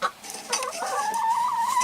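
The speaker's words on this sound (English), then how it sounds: "There's the chickens." Chickens in a coop give short clucks and a rising, drawn-out call, moderately close, over a faint background of rustling.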